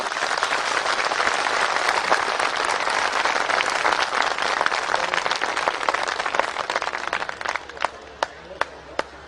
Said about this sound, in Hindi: तो मैं चाहूंगा कि जोरदार ताली आपकी तरफ से सबके लिए।